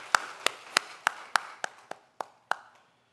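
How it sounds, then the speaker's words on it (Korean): A church congregation gives a few sharp, spaced claps, about nine distinct hits with a ringing echo, slowing and fading toward the end. "우리 주님께 감사의 박수 드리겠습니다"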